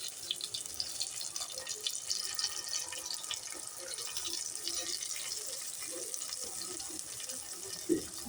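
Running water from a tap pours steadily while fish curry with kudampuli is made, a continuous moderate splashing stream with a few brief drips and clinks, no talk over it.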